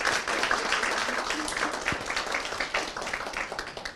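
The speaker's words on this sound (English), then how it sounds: "Everybody, can we give August a clap?" A conference audience claps steadily for several seconds, a moderate, evenly sustained round of applause with a few sharper claps poking through.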